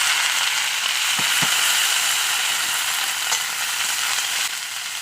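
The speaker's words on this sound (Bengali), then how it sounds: "আমি তেল দিয়ে দিলাম কড়াইয়ে এবার আমি এখানে ফুলকপি দিয়ে দিচ্ছি" Cauliflower florets frying in hot oil in a kadai, a steady close sizzle throughout with a few brief clinks of utensils.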